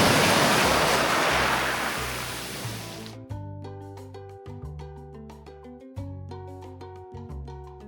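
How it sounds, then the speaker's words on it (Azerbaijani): Ocean waves break on a rocky, stone-covered shore at Hana Bay, Hawaii, a loud continuous rushing surf for about three seconds before melodic music takes over. "Dalğa qaydanda çox qəşəng səs çıxarır."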